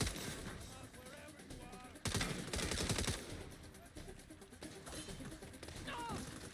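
Rapid video-game gunfire in a squad-based shooter, with loud bursts between 2 and 3 seconds over a dense, busy battle mix of shots and effects, continuing more softly afterward.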